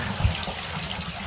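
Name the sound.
water running from boiler hot water outlet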